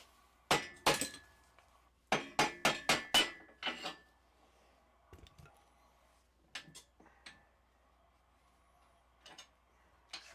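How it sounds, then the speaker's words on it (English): A rubber hammer strikes metal parts of a 1.8T engine during a teardown: a quick run of five sharp, close knocks, then a few scattered lighter taps in a quiet workshop. "give me that rubber hammer."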